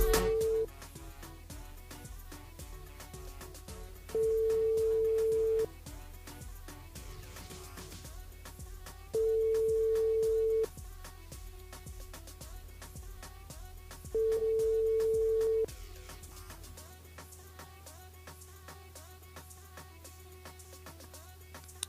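A telephone line tone sounds during a radio call-in broadcast as the host rings a listener: four evenly spaced steady beeps about five seconds apart, each roughly a second and a half long, over a continuous background bed of music.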